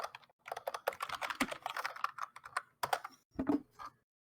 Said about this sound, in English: Ten out of 10 keyboard clacks.